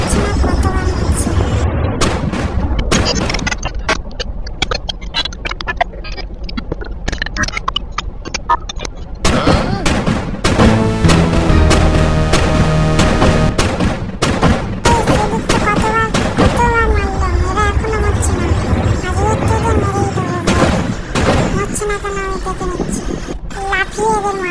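Dense video game battle against police, with continuous gunfire and booming explosions layered over game music and effects, while someone talks over the action throughout.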